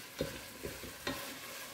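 Tomatoes sauté in oil and ghee for an Ambur chicken biryani. Three soft spatula scrapes sound over a faint, low sizzle.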